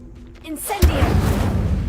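An Incendio fire spell cast in Hogwarts Legacy, a swooshing build-up followed by a sudden fiery burst and a sustained roaring crackle that fades slightly, with a brief voice shout near the start.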